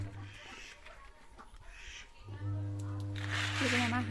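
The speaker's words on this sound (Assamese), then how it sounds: "সেইজনী আমাৰ হাঁহ।" A domestic duck calls nearby with short, nasal squawks that rise toward the end, mixed with a person talking close by.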